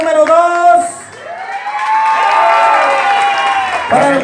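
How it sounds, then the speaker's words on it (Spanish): Crowd cheering, whooping and clapping for a dancing couple at a lively party dance contest, loud and sustained with shouts rising over the applause. "¡Aplausos para la parejita número dos!"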